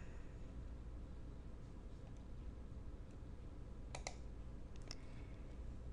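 A computer mouse clicks in grading software, giving a quick close double click, then a single sharper click about a second later, over steady faint background hiss.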